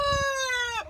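A hen called Macy making one drawn-out, tonal vocal call under a second long, close and clear, slightly falling in pitch and ending abruptly.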